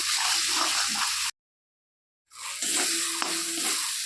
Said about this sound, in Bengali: আমাদের ভালো করে ভেজে নিতে হবে টমেটোগুলো